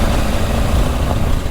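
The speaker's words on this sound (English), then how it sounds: "This is really slippery, all this red clay. Just spinning going up here." A Triumph Tiger 900 Rally Pro motorcycle's engine roars steadily and loudly, close up, as its rear wheel spins for grip on slippery red clay on an uphill track.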